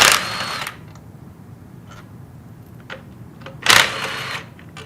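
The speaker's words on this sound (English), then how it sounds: "go ahead and remove the 4 cap screws on the elbow" A power tool backs out the cap screws on the elbow of a Sandpiper HDF air-operated pump. It gives two loud, close bursts, one at the start and one near the end, with faint clicks and handling noise between them.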